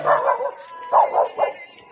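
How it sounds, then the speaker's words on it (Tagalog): A dog barks nearby in a few quick bursts, two at the start and three more close together, fairly loud with short gaps. "May aso."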